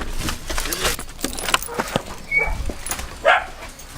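A dog whimpers and yips excitedly as its owner arrives home, with keys jangling and the owner's voice nearby; short, high whines rise over clattering movement.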